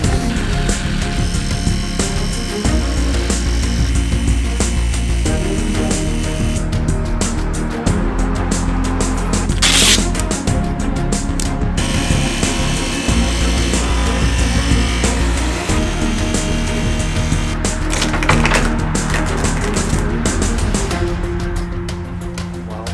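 A jigsaw cuts a window opening in a loud, continuous droning buzz that runs almost nonstop, with brief shifts in pitch as the blade moves through the cut.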